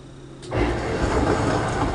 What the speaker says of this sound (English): It's now refilling for the final rinse.